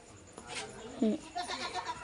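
A goat gives a short, close bleat while being milked on a village farm, followed by softer rustling and a voice speaking quietly nearby.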